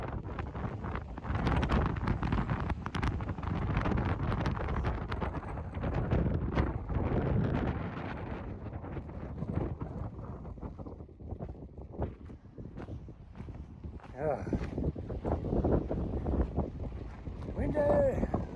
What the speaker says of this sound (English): A little breezy this morning, but not too bad.